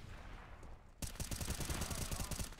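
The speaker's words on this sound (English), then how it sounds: "Lots of shooty shooty bang bang going on." Rapid gunfire in the video game Counter-Strike: Global Offensive, a dense burst of shots that begins after a quiet first second and keeps up loudly until the end.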